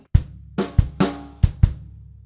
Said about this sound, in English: we got bass drum on the 1, snare drum on the and of 1